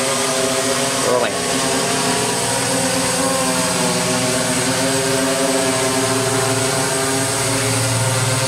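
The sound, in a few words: DJI S800 hexacopter drone motors while landing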